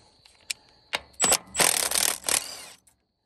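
A ratchet wrench works on the bolts of a Massey 50 tractor seat base, giving a few sharp isolated clicks followed by quick bursts of close metallic ratcheting that stop abruptly.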